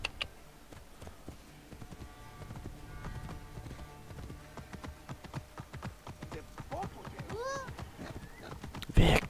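Horse hooves clip-clop in the video game Assassin's Creed Origins, a quiet run of regular hoofbeats with a few honking and whinnying calls near the end and a sharp burst at the close.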